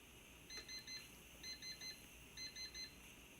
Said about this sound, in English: All right, our timer's gone off.